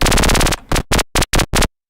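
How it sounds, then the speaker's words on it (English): A harsh synthesizer tone with its pitch modulated while playing sounds in one long burst, then breaks into five short choppy pulses before cutting to silence. "we're actually like modulating the pitch of it while it is playing"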